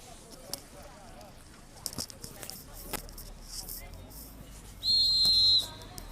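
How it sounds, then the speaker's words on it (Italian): A referee's whistle at a football match gives one shrill blast of about a second, loud and clear above the background noise of the crowd and play. "l'arbitro fischia un calcio di punizione"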